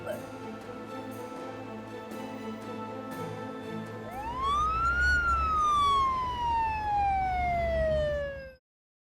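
A loud ambulance siren rises and falls in a long sweeping wail, growing stronger partway through over a steady low rumble of traffic.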